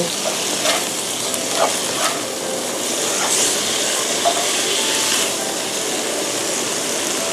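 Squid and shrimp stir-fried in a hot pan, with a continuous loud sizzle and hiss, punctuated by scattered scrapes and clacks of the spatula, close and alone without voices.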